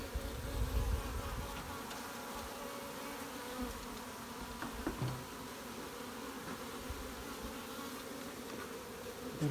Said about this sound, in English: frames and bees everywhere here